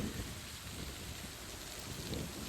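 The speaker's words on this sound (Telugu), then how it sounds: "ఏకదాటిగా రెండు గంటలకి పైనే వర్షం" Heavy rain in Hyderabad hisses down steadily without a break, a dense, even wash of sound with a faint low rumble beneath.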